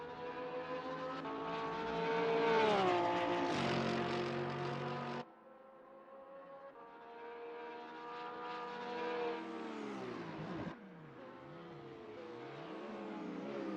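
A Porsche 911 GT3 R race car in a racing video game, its engine howling loud and close as it revs up, drops sharply on a gear change, climbs again and cuts off once more.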